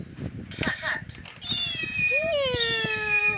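A cat meows close by, a rising-falling tonal cry that swells and holds near the end, over scattered handling noises and a person talking.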